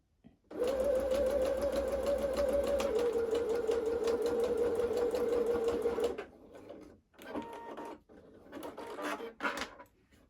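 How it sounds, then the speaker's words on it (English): A sewing machine stitches a dress seam in one long steady run, close and even, then stops and makes a few shorter bursts of back stitching with pauses between. "I'm just simply going to go all the way to the end and then back stitch"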